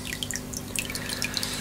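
Water drips and trickles from a modified aquarium filter outlet on a 10-litre acrylic Hidom tank, with quick irregular plinks over a faint steady pump hum.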